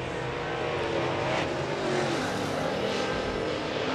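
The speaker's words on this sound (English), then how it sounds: "Drivers working their second of two qualifying laps." Late model race cars turn qualifying laps at Boyd's Speedway, a continuous roaring engine drone that swells slightly as a car passes by, heard from a distance with no talking over it.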